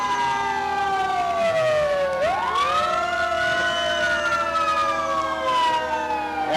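A Waupaca Fire Department fire engine at a Fourth of July parade sounds its siren, a loud, close wail that dips low and then sweeps back up and holds, steady and continuous with no voices.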